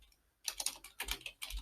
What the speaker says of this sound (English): typing a little message